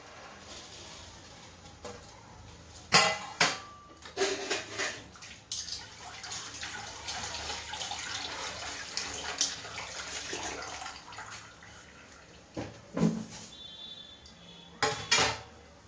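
Mixed vegetables for bhogichi bhaji being rinsed clean in water, with intermittent splashing, sloshing and a few louder clatters of the vessel at close range, no voices.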